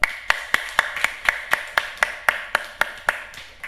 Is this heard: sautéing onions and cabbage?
no